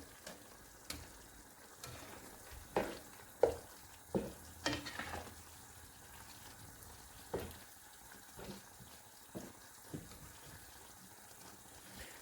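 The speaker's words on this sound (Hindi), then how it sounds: "इनको हम अब तकरीबन 2 से 3 मिनट मज़ीद भूनेंगे।" A potato and pea filling for stuffed bitter gourd fries quietly in a pan. Scattered spoon scrapes and light clinks break through a low, faint sizzle, and no one speaks.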